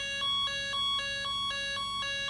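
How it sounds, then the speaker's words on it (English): Electronic ambulance siren from a Snap Circuits kit, a steady two-tone warble alternating high and low pitches about every quarter second, sounding alone and clearly throughout. "Let me show you the ambulance again."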